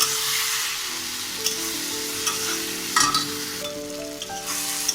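Marinated prawns sizzle and fry in a pan while being stirred, giving a close, steady crackling hiss with scraping spoon strokes and faint tonal clinks throughout, no voices.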